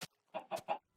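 A Minecraft chicken gives a short run of clucks: one quick cluck, a brief pause, then three close, clear clucks in a row, heard alone with no talk.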